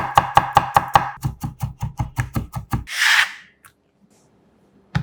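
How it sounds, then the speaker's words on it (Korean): A knife chops green onion and garlic on a board, a quick run of about fifteen sharp even taps, then a brief scraping sweep and silence. "알싸한 통마늘 4개는 살짝 굵게 다져주세요"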